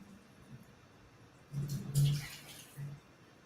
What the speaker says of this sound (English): I'm going to take a little bit of water out because I don't need all this water.